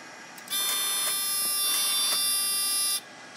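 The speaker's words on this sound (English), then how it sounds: "Silence the buzzer." A Radionics central station alarm receiver sounding its panel buzzer, a loud harsh continuous electronic buzz lasting about two and a half seconds before cutting off, close by, over a faint background hum.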